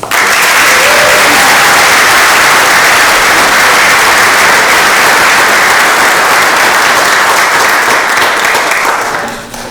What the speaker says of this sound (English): Let us give another well-deserved round of applause for the class of 2025 Athletic Hall of Fame inductees.